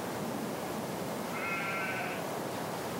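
A single sheep bleats once from a Farming Simulator 2013 flock, a short wavering cry over a soft, constant background hiss.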